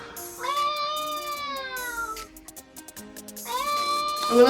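Two drawn-out cat meows from a short social media clip, one near the start and a second rising near the end, loud and close with a quieter gap between them and no talk over them.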